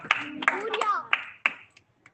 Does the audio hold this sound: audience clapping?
yes